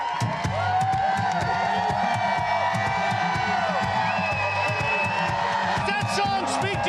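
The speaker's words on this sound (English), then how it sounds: "You can hear the crowd yelling, USA! USA! USA! USA!" A large concert crowd at a show in North Carolina roars with continuous, dense cheering and rhythmic chanting of "USA," loud and close throughout, with voices layered over one another.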